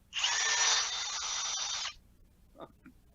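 A power drill with a brush attachment whirs loudly for about two seconds, then stops, leaving a few faint knocks.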